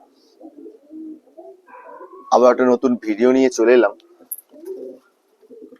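Pigeons in a loft give soft, low coos while a person talks over them, the bird calls faint and intermittent beneath the louder voice.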